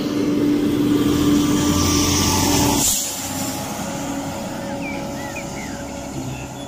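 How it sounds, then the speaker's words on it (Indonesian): A double-decker bus drives past on a city street, a loud engine and road roar that cuts off abruptly to a quieter steady traffic hum for the rest. "Wow, ada mobil bus tingkat."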